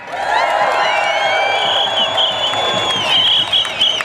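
A large crowd at an outdoor rally in Olympia applauds and cheers, with loud sustained clapping, shrill whistles and whoops running through the whole stretch and swelling near the end.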